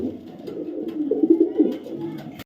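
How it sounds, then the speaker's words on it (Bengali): Full silver Afshan racing pigeons, a soft low cooing with rising and falling throaty notes, close and moderately loud, one bird's coo swelling in the middle before cutting off. "ফুল সিলভার আফসান বাগা চুইঠাল একটা মাদি কবুতর"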